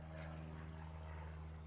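An airplane passes overhead as a faint, steady propeller drone with a low hum that holds evenly through the brief moment.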